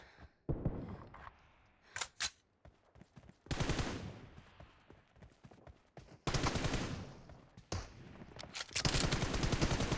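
Gunfire from a gun in the mobile battle-royale game PUBG Mobile: sharp single cracks and rapid bursts of shots come in clusters with short pauses, some bursts loud and dense, others quieter and more scattered.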